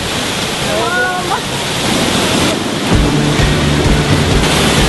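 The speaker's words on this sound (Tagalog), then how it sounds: "Ang busayan malagi kay in 15 meters ang kay taas." A waterfall about 15 meters high in Abuyog, Leyte roars as a dense, continuous rush of falling water close by, loud throughout, with brief bird chirps and people talking over it.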